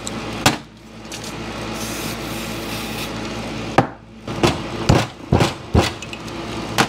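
Sharp clicks and ratcheting scrapes from a 7/16 socket wrench working a rusty, stuck bleeder screw, several distinct knocks spaced through a steady mechanical background hum, close and fairly loud with no talking.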